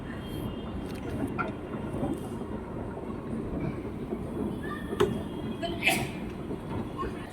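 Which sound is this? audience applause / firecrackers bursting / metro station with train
metro station with train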